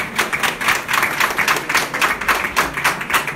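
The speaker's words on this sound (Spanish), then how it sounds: "un aplauso por favor, viene desde Rusia." An audience at a cultural festival applauding, a dense, steady wash of many hands clapping together, fairly loud and close, sustained without pause and with no talking over it.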